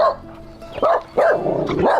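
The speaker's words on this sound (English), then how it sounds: "You don't bite, they just bark." A small dog barks close by in a rural small town, two or three sharp, yappy barks with short gaps between them.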